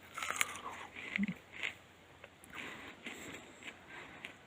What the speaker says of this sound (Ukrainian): Навіть така прив'яла ягода і то така хрумка, прям як огірок.